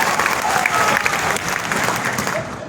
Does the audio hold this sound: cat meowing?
no